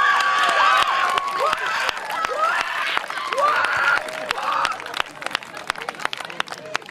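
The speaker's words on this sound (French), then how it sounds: "Troisième, Louvain-la-Neuve, qu'on peut applaudir bien fort." A crowd at a parish youth tournament in Belgium claps and cheers for a third-place team, with sharp individual claps, children's shouts and whoops over chatter, tapering into scattered claps.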